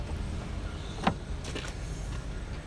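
A Toyota Fortuner VNT G SUV's rear boot is opened, giving a single sharp latch click about midway through, followed by a faint mechanical whir over steady low background rumble.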